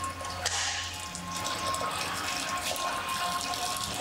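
Hot water at around 80 degrees pours steadily for tea with lavender, a continuous close gushing splash that fills the whole few seconds with no talk over it.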